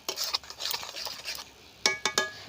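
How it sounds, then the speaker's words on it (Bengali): Mango pulp and sugar being stirred in a pot with a spoon, soft scraping rubs followed by three sharp metallic clinks near the end, close and fairly quiet. "এবার আমি নাড়তে চাড়তে থাকবো।"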